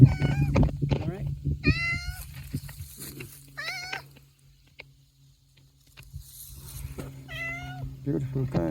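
Cat on a farm meowing several times in drawn-out, wavering calls close by, with a person talking at times between and over the meows against a low steady hum.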